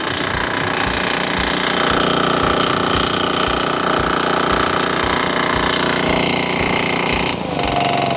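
An FDWP30 diesel water pump engine idling in a rice field, a loud, steady, rapid mechanical chugging that runs unbroken throughout.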